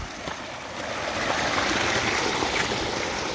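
Water rushes in a strong, continuous flow at close range, a steady broadband hiss that swells slightly after the first second, with no talk.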